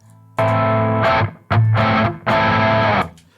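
Distorted electric guitar chords played through a distortion pedal switched by a BOSS ES-8 pedal switching system, three sustained bursts separated by brief gaps, loud and close.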